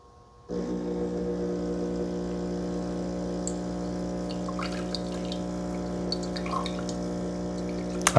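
A Ninja Luxe Cafe ES601 espresso machine resuming its brew after a bloom pause, starting abruptly with a steady pump hum and flowing water, faint small clicks and drips over it, fairly quiet and continuous.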